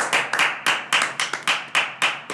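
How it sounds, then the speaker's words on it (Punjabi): Sharp hand claps in a talk-show setting, about a dozen loud, close slaps in a quick, slightly uneven rhythm with no voices over them. "ਮਾਰ ਤਾੜੀ"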